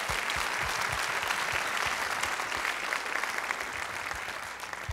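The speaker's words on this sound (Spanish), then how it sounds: "Un aplauso al Señor, hermanos." Church congregation applauding at a Spanish-language service, a steady, dense wash of clapping hands filling the whole stretch at even loudness, with no voices rising above it.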